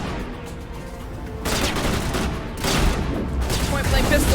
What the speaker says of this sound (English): Point blank pistol.